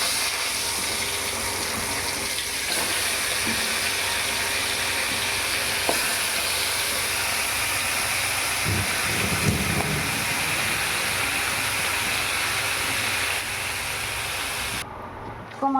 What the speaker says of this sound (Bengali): এইভাবে আরও মাছের মাথাগুলো আমি ভেজে নেব।